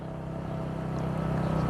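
A motorcycle engine drones at a low, faint level and swells slightly as the throttle opens and the clutch is let out, with no one talking.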